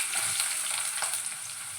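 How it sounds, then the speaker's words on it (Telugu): Onions frying in hot oil for a mushroom curry, a steady bright sizzle close by, with a little stirring, no talk. "ఇక్కడ ఆయిల్ పెట్టానండి. ఆనియన్స్ వేసేద్దాము."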